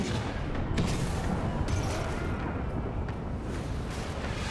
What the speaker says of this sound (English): And then we fire the port cannons.